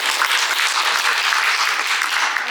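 A church congregation bursts into loud, even applause during a sermon, a dense wash of many clapping hands close and constant throughout.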